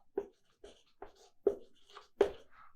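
A teacher writes on a board during a physics lecture, giving five or six separate scratchy strokes spaced about half a second apart, close and clear against a quiet room.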